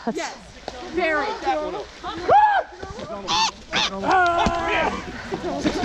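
A person acting as a small monster character at a LARP combat event imitates bird and bug calls with the voice, producing a run of chirps, whistles and squeaky warbles at close range, with outdoor movement around.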